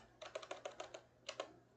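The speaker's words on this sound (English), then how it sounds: "You just type power off." Keystrokes on a computer keyboard typing a short command, a quick burst of about six taps followed by two more after a brief pause, close and fairly quiet with no talking.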